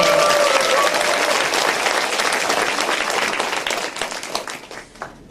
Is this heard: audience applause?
yes